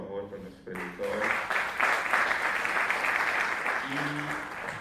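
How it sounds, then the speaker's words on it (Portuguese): An audience at a panel on Luanda and the Atlantic slave trade claps for the professors, a steady round of applause following brief talk and fading near the end under a voice. "Gostaria de pedir uma salva de palmas, por favor, para os nossos professores."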